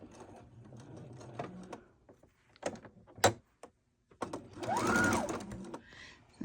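A sewing machine stitching quilt fabric runs in short stop-start bursts with clicks and clunks between them, then whirs steadily for a moment. It sounds close by.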